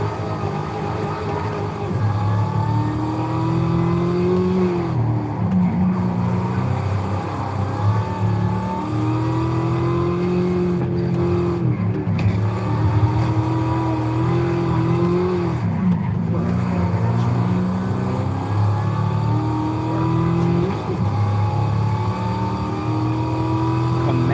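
Chevrolet Camaro ZL1 LE engine in Forza Horizon 5, droning loudly and steadily with rising and falling revs as the car is driven through corners, alone without talk.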